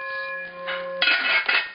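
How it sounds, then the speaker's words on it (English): A metal cooking pot cover is tapped, giving a sustained ringing tone that fades, followed by a few clinking, clattering knocks of the lid. "Listen to that thing every time I tap it."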